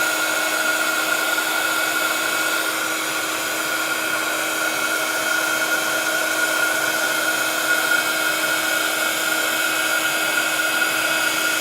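An embossing heat tool blows from underneath a card with a constant, close, loud whirring hiss and a steady hum, running unbroken with no voices.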